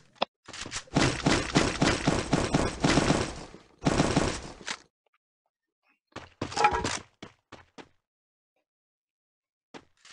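Bursts of rapid gunfire from the video game Garena Free Fire: a dense, loud volley of shots, then a longer burst after a short gap, and a few scattered single shots at the end, with no talk.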